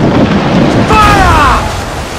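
A ship's cannon fires in Assassin's Creed 4, a single loud, close boom partway through, with a brief ringing tail fading into the rumble of naval battle.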